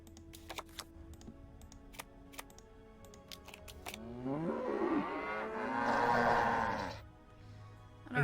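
Sharp clicks and taps sound at first, then a cow in the Nancy Drew video game lets out a long, wavering moo lasting several seconds before fading out.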